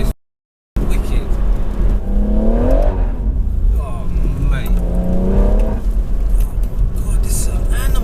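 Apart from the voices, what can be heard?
JB4-tuned BMW M140i engine accelerating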